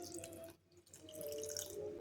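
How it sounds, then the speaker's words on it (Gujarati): A little water is poured into farali dhokla batter made with sour curd, giving a faint, close trickle that pauses briefly and then runs on as a gentle splashing stream. "હવે આપણે આમાં થોડું પાણી નાખીશું।"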